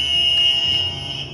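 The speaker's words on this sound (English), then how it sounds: "let's test out those buzzers" A battery-operated game show buzzer sounds one loud, steady electronic tone lasting about a second, then trails off.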